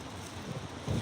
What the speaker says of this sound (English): it's really windy in this area